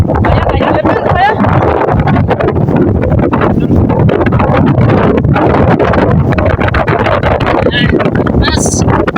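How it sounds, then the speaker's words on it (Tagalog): Strong wind buffeting a small boat while a young boy hauls in a 7-kilo longnose emperor fish, a loud continuous roar of gusts over the microphone throughout, with excited voices shouting over it. "Lakas ang hangin!"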